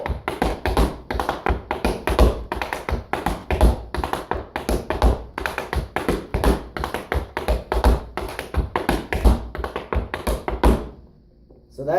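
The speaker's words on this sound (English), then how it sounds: "That's the buck time step." A tap dancer performs the buck time step, with rapid, crisp metal taps striking a hard floor in repeating rhythmic phrases for about eleven seconds before stopping. The taps are close and loud, with no talk over them.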